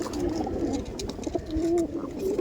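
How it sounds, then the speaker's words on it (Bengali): A pair of Dhanyabala Malbayi pigeons coo softly and repeatedly, close by, over a steady background murmur. "এটা ধান্যবালা ধান্যবালা বিড়ে পায়রা আছে"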